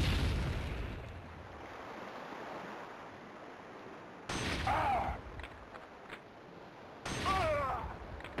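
Grenade blasts go off in the war game Killzone Liberation: an opening roar, then two further sharp bursts with crackling tails, fairly distant-sounding and unaccompanied by speech.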